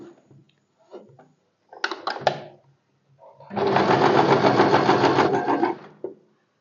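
A sewing machine stitches fabric for a blouse: a few short stuttering runs, then one steady rapid whirring burst of about two seconds before it stops.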